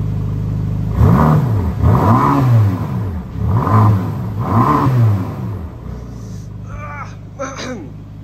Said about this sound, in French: On va donner un coup de gaz.